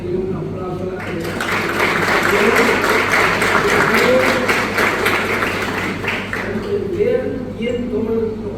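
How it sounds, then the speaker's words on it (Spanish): A crowd breaks into steady applause, dense clapping that swells quickly, holds for several seconds, then tapers off while a voice continues over it. "Ahí quiero pedir un aplauso a la Teresa."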